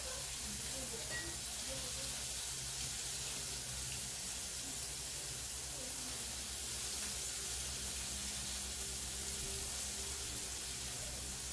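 Shrimp frying in a pan for fried rice, a steady bright sizzle and hiss of hot oil continuing evenly throughout, close and constant with faint kitchen background.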